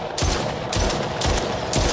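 Loud, close gunshots in the VR shooter The Brookhaven Experiment, four sharp blasts spaced roughly half a second apart over a dense, noisy game background, with no voices.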